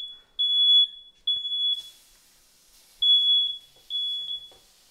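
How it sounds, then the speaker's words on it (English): A smoke alarm beeps in a steady, high-pitched repeating pattern, loud and close, with short pauses between bursts of chirps. "Dad, can you turn off the smoke alarm?"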